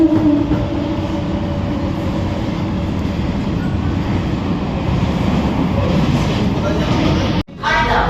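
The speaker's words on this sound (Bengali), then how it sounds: "ট্রেন ছেড়ে বেরোচ্ছে" Close, continuous rumble of an air-conditioned local train leaving Sodepur station, rolling along with a low motor hum and rattle, dipping briefly to near silence just before the end.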